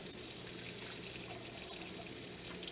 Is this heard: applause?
no